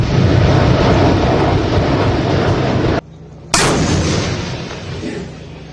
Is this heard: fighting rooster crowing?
no